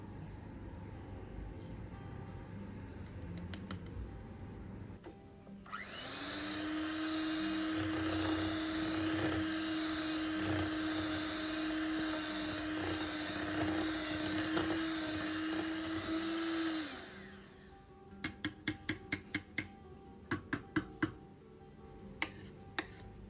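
An electric mixer whirs steadily, mixing coconut, coarsely chopped walnuts and baking powder into the batter base of a Cypriot dessert. It runs loud and continuous for about eleven seconds, then stops, followed by a few sharp clicks and knocks.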